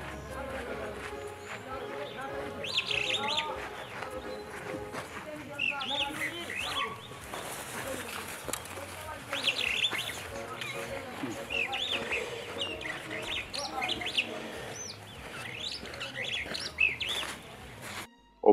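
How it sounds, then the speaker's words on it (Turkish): A starling in wild Ethiopia sings a varied run of chirps and whistles that goes on throughout, over a soft background with other birds. "Ötüşü ile ruha huzur veren muhteşem sığırcık"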